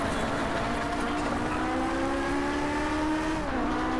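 A Ferrari engine racing in a video game, a loud sustained high-revving drone that climbs steadily in pitch, then drops sharply for a gear change and picks up again, with no talking.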